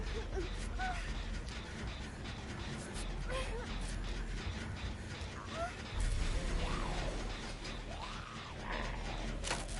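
Generator repair in the multiplayer horror game Dead by Daylight, heard as a steady, busy mechanical clatter of ratcheting and grinding parts that runs the whole time under a dense bed of game noise.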